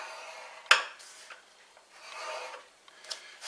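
A wooden board being scored at inch marks, quiet rasping scrapes with one sharp tap, the strokes faint and uneven across a few seconds.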